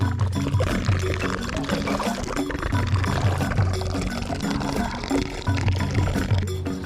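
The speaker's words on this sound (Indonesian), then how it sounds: "sebelum kita panen ikan, kita harus bocorin dulu si airnya biar agak surut" Water drains out of a fish pond before the harvest, a steady rushing pour and gurgle of flowing water that stays close and fairly loud throughout, with no clear talking.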